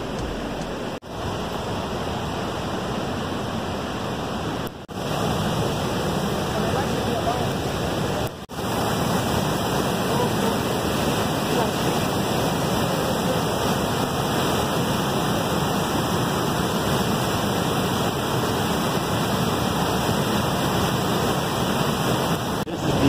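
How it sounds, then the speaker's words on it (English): Linville Falls' upper falls on the Blue Ridge Parkway roar as a steady, broad rush of falling water, loud and close, continuous through the whole clip with only brief dips. "We're at the upper part of the falls now."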